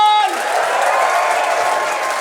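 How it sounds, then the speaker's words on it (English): Studio audience applauding comedians at a late-night comedy show, steady dense clapping and crowd noise throughout, with a brief musical tone fading at the start. "give them a massive round of applause"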